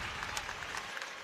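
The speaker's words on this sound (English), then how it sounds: "Crowd liking Murphy's no nonsense tackling" Football crowd at a Scottish Women's Cup semi-final applauding a no-nonsense tackle, a steady wash of clapping and cheering filling the stand at moderate volume throughout the short moment.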